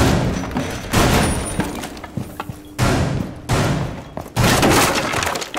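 A shotgun in Rainbow Six Siege blasts open a wall in loud bursts: several heavy shots, each with crackling debris and breaking material, coming in uneven clusters with short gaps between them.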